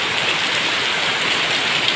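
Rainwater is poured out over a garage floor to clean it during a typhoon, a loud, steady, close rush of splashing water that continues without a break, with no speech heard.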